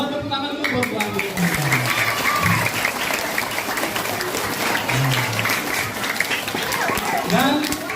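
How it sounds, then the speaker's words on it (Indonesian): A school audience at an elementary school disaster-mitigation education event claps for a teacher, a steady crowd of applause with children's voices and shouts mixed in and talking over it. "Buat tepuk tangan dulu buat Bu Andini."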